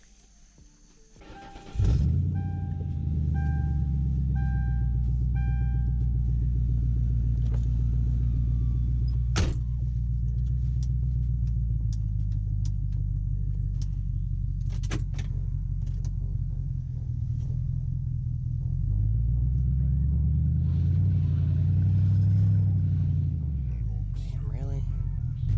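Car engine, a Grand Marquis, starting up and then droning and revving steadily while stuck in a mud rut, a loud close low rumble lasting throughout with pitch rising and falling, scattered knocks on top.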